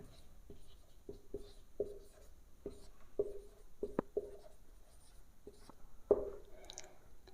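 Chalk or marker writing a topic heading on a classroom board during a maths lecture, a series of short scratchy taps and strokes spaced irregularly, close and fairly quiet, with no talking over them.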